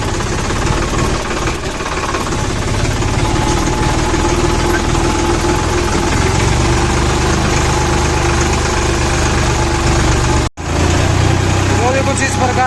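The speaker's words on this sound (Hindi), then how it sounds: "तो ये ट्रैक्टर कर लिया स्टार्ट।" A Farmtrac 45 tractor engine idles steadily at close range on a farm field before sowing millet, a constant diesel rumble with one brief dropout near the end.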